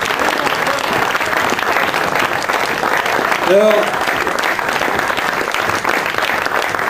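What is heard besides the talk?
audience applause for a folk dance group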